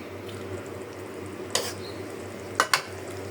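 Beef bhuna with potatoes cooking in a pot sizzles with a low, steady hiss, broken by a few sharp clinks of a spoon against the metal.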